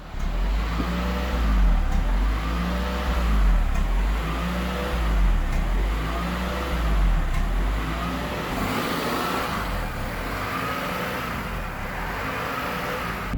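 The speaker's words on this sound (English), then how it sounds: "it was doing that thing where it was revving up and down at idle" A Honda car engine surging up and down at idle with an unplugged idle control valve, a low steady drone that swells and dips in a slow repeating rhythm, close by with no talking.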